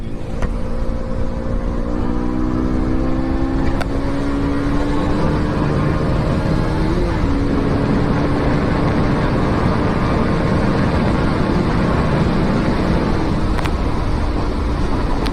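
A KTM motorcycle engine drones loud and steady during a race, its pitch rising slowly as it revs. Constant rushing road and wind noise comes through close up, with no talking.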